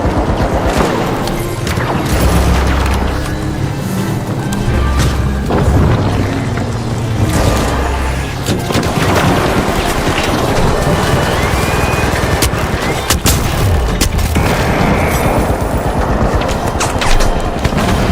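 Heavy explosive blasts from a frag grenade in the video game The Finals, mixed into a dense, continuous barrage of gunfire and booms that stays loud and close for the whole stretch.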